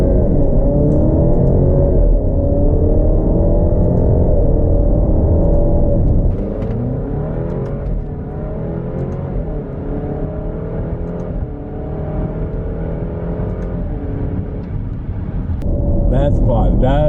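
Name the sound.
2018 Alfa Romeo Stelvio 4-cylinder SUV accelerating in manual mode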